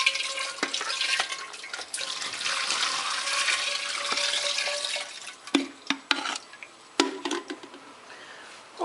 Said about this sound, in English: Run it over the duct tape just to get all that stuff flushed down.